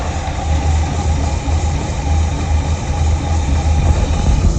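Engine of a Chevy Monte Carlo SS idling with the choke not setting, a steady low rumbling drone close by, continuous with no talk.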